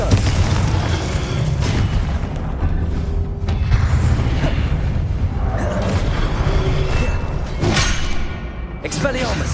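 Confringo spell explosions in the Hogwarts Legacy video game, a run of loud booming blasts and sharp bursts over dense battle noise, with spoken voices mixed in.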